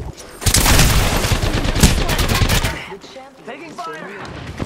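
Rapid bursts of gunfire from an Apex Legends match ring out loud and close for nearly three seconds, then give way to quieter game effects and a short voice line.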